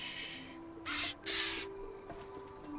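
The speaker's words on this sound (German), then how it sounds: "netter Vogel." A bird squawks twice in the video game Return to Monkey Island, two harsh, loud caw-like calls in close succession over a quiet, steady game ambience.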